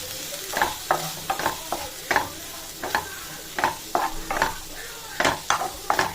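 Grated carrot sautéing in a pan for a breakfast dosa topping, a continuous sizzle with frequent quick rhythmic scrapes of a spatula stirring it, close and clear.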